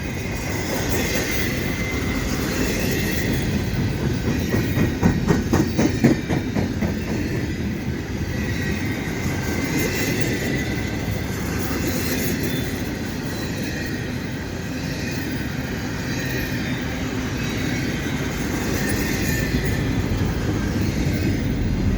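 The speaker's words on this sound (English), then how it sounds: "The empty well cars don't make a really great, interesting train." CP container train of empty well cars rolling past Dorval Station, a steady loud rumble with rhythmic clickety-clack of wheels over rail joints and faint squeal, continuing throughout without talk.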